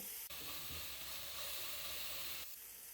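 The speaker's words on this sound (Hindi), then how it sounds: "हम तकरीबन 7 से 8 हरी मिर्चें बारीक चॉप कर लिए, ये डाल देंगे। हल्का सा फ्राई करेंगे।" Finely chopped green chillies sizzle steadily in hot oil in a pan, a loud continuous frying hiss with faint stirring, no one talking.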